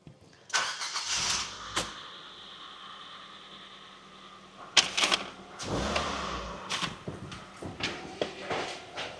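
A 2013 Ford Fiesta with a 1.6 Sigma engine cranks and catches, then settles into a steady idle after a fresh timing belt job, with clicks and knocks of workshop handling around it.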